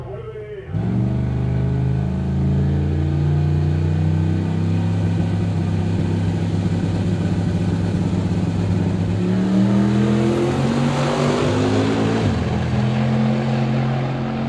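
A race car launches down a drag racetrack in a single run, its engine roaring loud and close, with a steady climbing pitch through the gears and a rising howl before fading at the end.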